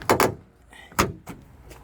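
Pushing open the rear door latch on a 2006 Ford F350 produces a quick double clunk, then a single louder click and a softer knock, all close up and crisp.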